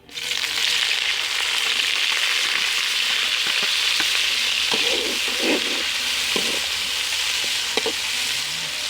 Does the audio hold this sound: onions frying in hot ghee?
yes